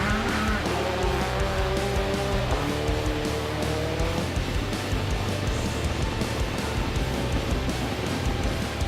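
Rally cars on rally tyres spin in the streets of Dunedin, with a loud, continuous engine roar and tyre noise that surges and shifts, heard close from a crowded roadside.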